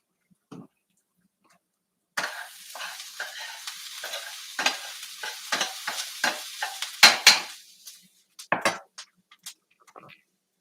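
Onions sauté in a pan after a quiet start, giving a soft crackling sizzle broken by repeated scraping and stirring strokes and a few light clinks of a utensil against the pan.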